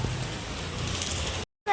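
Steady rain falls on a rainy day, a dense even hiss that stops abruptly into silence before a brief thump.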